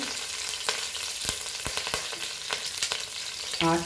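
Curry leaves dropped into hot oil for a Goan prawn and brinjal dish, crackling and sizzling steadily with sharp pops spread through it and a brief clatter of stirring near the end.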